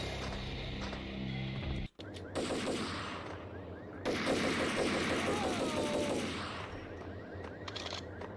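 Gunfire in the Max Payne game, rapid bursts of loud shots and automatic fire with a brief silent gap, then a denser volley with ricochet-like whistles, fairly close and dense.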